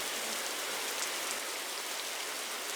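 Rain pours steadily in the video game Hive, a soft, continuous hiss of falling drops with no pauses or voices.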